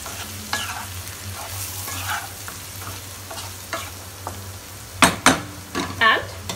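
An aloo fry of potatoes with chopped coriander and lemon juice is mixed gently in a pan, giving soft, steady stirring and light frying, then a few sharper utensil clinks and scrapes near the end.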